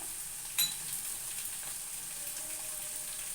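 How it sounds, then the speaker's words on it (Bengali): Spices for butter chicken, with turmeric, Kashmiri red chili powder, ginger and garlic paste, sizzle and fry in a pan in a steady hiss, with a brief stirring clatter near the start. "দিয়ে মশলাটাকে ভালো করে কষিয়ে নেবো।"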